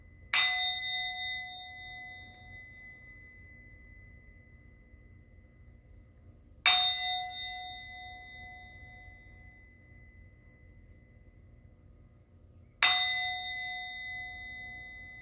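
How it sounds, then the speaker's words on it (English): A hand bell is struck three times, about six seconds apart, each strike a clear ringing tone that fades slowly over a faint low hum, with no voices. "I'm going to ring the bell."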